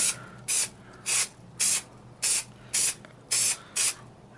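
Seven short, sharp bursts of aerosol spray onto an Acura TL door panel insert hiss in an even rhythm, each about a third of a second, close up with quiet between.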